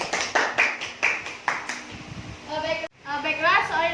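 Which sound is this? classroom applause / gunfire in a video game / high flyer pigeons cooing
classroom applause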